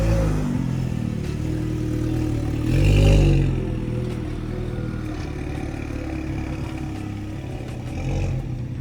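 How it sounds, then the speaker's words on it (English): A 2024 VW Polo GTI pulling away, its exhaust giving a steady mid-pitched drone that swells briefly in a short rev burst before settling into continuous cruising rumble, with light clatter throughout. "as we drive off, I want you to listen to the exhausts"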